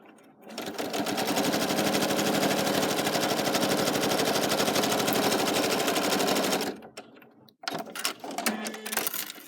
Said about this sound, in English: we're just going to sew that straight down over the top